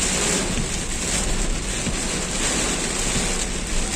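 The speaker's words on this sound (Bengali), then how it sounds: "এত বৃষ্টি।" Heavy rain pours continuously, a dense, loud, unbroken hiss with no pauses, heard close by and alone without voices.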